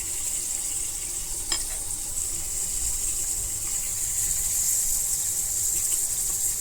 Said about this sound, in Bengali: এখানে এই যে পনিরগুলো ভাজতে দিয়েছি